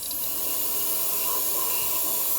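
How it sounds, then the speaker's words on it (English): Parts cleaner sprayed onto a Toyota Corolla 1.8L oil filter housing, heard as a steady, close aerosol hiss that runs unbroken through the whole stretch with no talking. "so I'm going to take some parts cleaner and clean it up."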